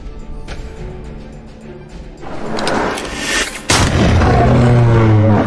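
Game gunfire effect in the Eternal card game as a dragon is shot down, loud booming shots and crashing impacts building into a heavy sustained blast at the end, no voices.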